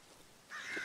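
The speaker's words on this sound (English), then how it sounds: "Oh, crows." Crows cawing in the dark survival horror game Darkwood, a short harsh call rising suddenly after a quiet stretch, moderately loud against a low eerie ambience.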